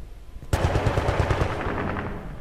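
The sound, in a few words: gunfire in the video game Battlefield Bad Company 2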